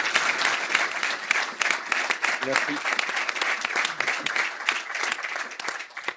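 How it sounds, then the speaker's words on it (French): A crowded evening audience in a room applauds loudly and continuously, dense overlapping clapping filling the space while a voice speaks briefly over it. "on va t'applaudir parce qu'il y a pas mal de monde dans la salle ce soir."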